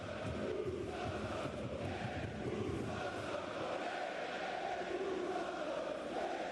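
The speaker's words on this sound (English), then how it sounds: "Let's get a little bit of crowd noise on the go." Stadium crowd at a Euro quarter-final between Spain and Germany, a steady distant roar of many voices with no distinct chants or peaks, even and sustained throughout.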